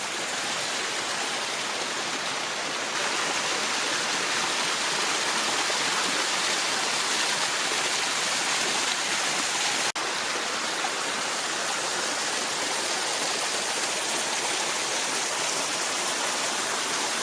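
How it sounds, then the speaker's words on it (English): A mountain waterfall on Colorado's Kit Carson Peak roars steadily, a dense continuous rush of falling water with no other sounds. "Pretty nice looking waterfall here."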